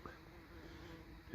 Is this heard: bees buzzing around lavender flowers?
yes